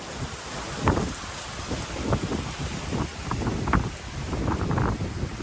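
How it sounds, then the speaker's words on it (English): Hurricane Helene's storm outdoors: steady roaring wind buffeting the microphone with rain pouring down, loud and continuous with gusting surges and no voices. "this is really not that bad of a storm"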